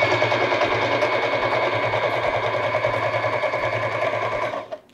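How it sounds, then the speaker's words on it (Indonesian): A Janome 2222 portable sewing machine stitches a test seam through fabric with a fast, steady mechanical whir and needle clatter that runs loud and close, then stops abruptly near the end. "Di sini aku punya kain. Kita test drive dulu."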